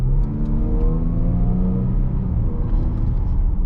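Supercharged engine of a 2017 Jaguar F-Pace 35T accelerating, a loud close rising rumble and whir that climbs steadily through the revs without a break.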